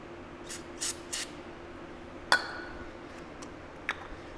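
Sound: spraying brake cleaner from an aerosol can

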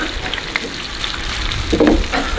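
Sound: tofu frying in a pan

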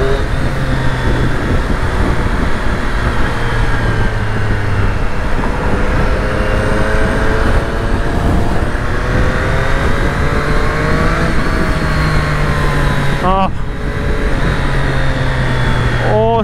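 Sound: 2020 Triumph Street Triple RS motorcycle riding and accelerating

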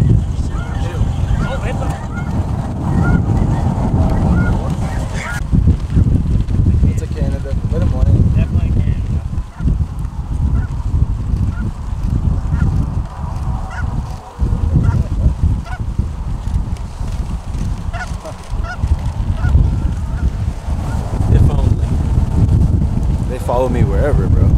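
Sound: geese honking in flight

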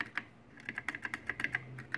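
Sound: Atari Polyvox console switches being clicked

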